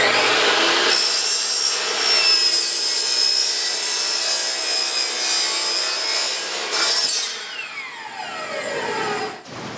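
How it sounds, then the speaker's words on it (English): A power saw cuts through a trench channel drain set at a 30-degree angle, giving a loud, steady grinding whine that holds for several seconds, then eases and changes pitch as the blade finishes the piece. "we're going to crank it over to 30 degrees, and we're going to cut our first piece of channel"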